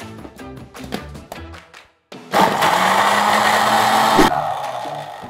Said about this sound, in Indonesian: Baru kita blender sekarang.